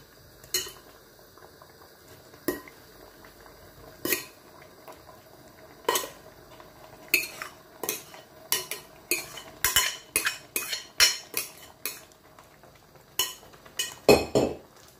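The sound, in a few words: adding blended mashed okra to the pot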